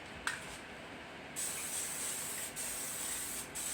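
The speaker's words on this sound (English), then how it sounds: "Spray my grill off." A steady hiss of canola oil aerosol spraying onto a grill runs in a few bursts, starting after a faint click, close and fairly quiet.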